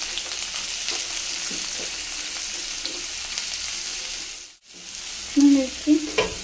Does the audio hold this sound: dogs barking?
no